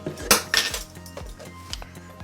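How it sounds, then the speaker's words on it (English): A spoon stirs egg yolk into a dry sugar cookie dough mixture in a bowl, giving a run of close, sharp clinks and scrapes against the bowl, several strokes in quick succession with no talking. "We've added the egg yolk to our dry mixture, and we just want to stir until evenly combined."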